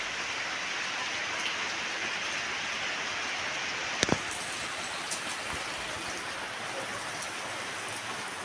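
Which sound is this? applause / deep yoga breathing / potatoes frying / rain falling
rain falling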